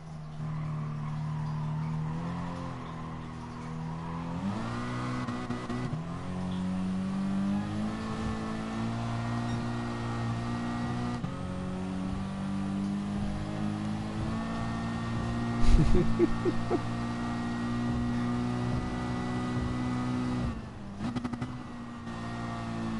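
A race car in Gran Turismo Sport's Wangan highway racing accelerates on nitrous, its engine droning steadily and loud with shifting pitch through gear changes and a brief sharp surge partway through.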